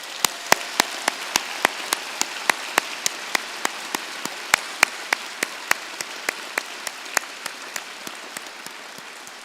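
Graduation ceremony audience at a University of Toronto Scarborough spring convocation claps steadily, a dense wash of applause with sharp individual claps standing out throughout, sustained and fairly even from start to finish with no talking.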